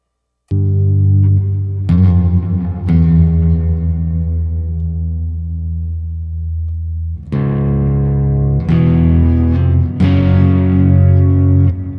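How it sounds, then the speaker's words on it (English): Electric guitar played through a rack Kemper amp using an STL Tones profile rings out as loud, distorted chords that sustain and decay, with a few fresh strums near the end and no talking. "I'm running everything through my rack Kemper, and I think I'm using STL Tones Sky Dreams"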